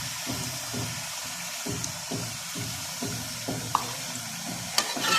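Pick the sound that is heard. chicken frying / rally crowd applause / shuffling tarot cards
chicken frying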